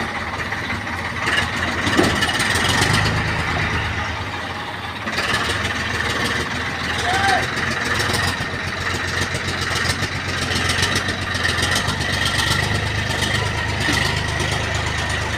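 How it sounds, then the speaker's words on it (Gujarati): A heavy diesel tractor engine chugs and drones steadily nearby as it drives past in a village, its low rumble holding throughout with slight swells as it moves. "જો આ બીજું ટ્રેક્ટર આમ જવો જાય"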